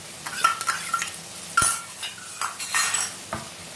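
Ginger garlic paste fries with onions in a pan for a Sindhi-style fish curry while a metal spoon stirs it, with repeated clinks and scrapes against the pan over a light sizzle.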